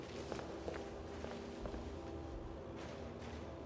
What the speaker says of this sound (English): Oh, I can hear her footsteps more.